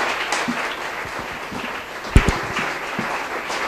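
An audience applauds at the close of a lecture on genetics, biotechnology and medicine, a broad even wash of clapping filling the hall with a few sharper knocks standing out.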